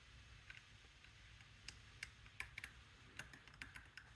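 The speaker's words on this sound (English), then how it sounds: "You can probably hear that. Little click there. Click there." A BlueSpot disc detainer padlock being picked gives off small, sharp metallic clicks, scattered irregularly and growing more frequent over a quiet background, faint and close up.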